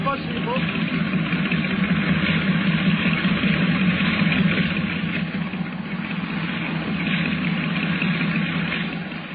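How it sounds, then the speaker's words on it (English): A heavy boat engine in need of attention idles steadily with a continuous low, throbbing rumble, while people talk over it. "Under the sound of it, that engine needs attention."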